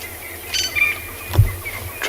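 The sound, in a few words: bird calls of drongos, crested francolins and doves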